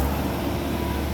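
A Komatsu PC120-6 excavator engine runs close by in a steady, dense rumble with a broad roaring hiss. It stays unbroken and fairly loud, with no talk over it.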